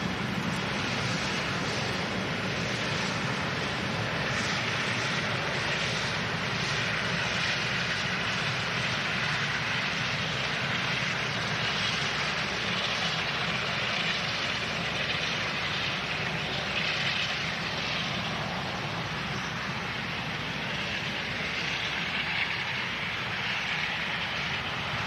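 An Emirates airliner taxiing at Manchester Airport toward runway 05 left for departure to Dubai gives off a steady, broad jet-engine roar and whine, continuous and moderately loud at a distance.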